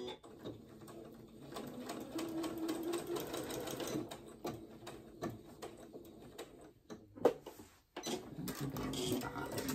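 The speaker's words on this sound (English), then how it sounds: "Put these right side together and match your notch and sew a 1/4 inch seam." A sewing machine runs a quarter-inch seam, its needle chattering in a steady close rhythm with a brief pause and clunk near the end before stitching resumes.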